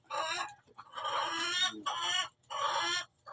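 Chickens cluck and squawk near at hand while pecking at chopped corn feed, several loud, harsh calls in uneven bursts with short quiet gaps.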